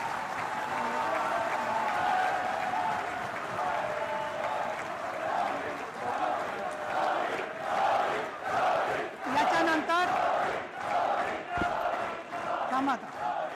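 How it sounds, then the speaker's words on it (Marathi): A crowd claps steadily and loudly for over ten seconds at a welcome ceremony for the India cricket team at the state legislature building, the applause swelling and dipping, with some voices mixed in. "आपण टाळ्या वाजवून जोरदार स्वागत करूया"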